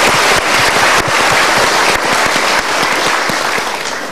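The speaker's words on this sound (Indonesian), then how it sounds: "Kita berikan doa dan kita berikan tepuk tangan dulu." A studio audience claps loudly and continuously, a close, dense wash of hand claps with sharp individual slaps standing out throughout.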